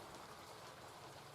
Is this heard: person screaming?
no